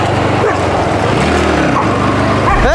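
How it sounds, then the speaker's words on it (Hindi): Dogs bark and yelp aggressively at a food delivery rider out at night, their loud, close barks rising in short bursts over steady background noise. "कुत्ते अटैक कर रहे हैं।"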